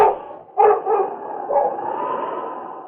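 A dog named King howls in a radio-drama sound effect: a single sustained, wavering howl rising after a short pause and holding steady, fairly close and alone with no talk over it.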